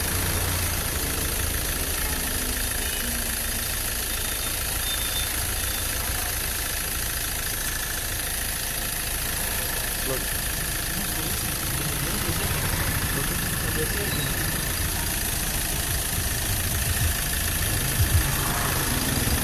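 A Hyundai Verna's engine idles steadily and continuously at close range, a constant low running drone with no pauses.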